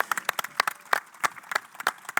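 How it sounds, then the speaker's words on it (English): Scattered handclaps from a small festival audience, individual claps distinct and uneven, moderately close and fairly quiet, with no talk over them. "So a round of applause to all of you. Round of applause,"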